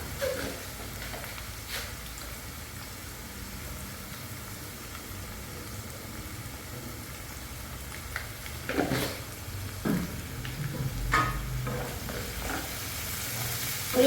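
Ginger, garlic, green chili and curry leaves fry with salt in hot oil, giving a soft, steady sizzle with occasional scrapes and stirring clatters. The sound is fairly faint and close, with a few louder stirs near the end.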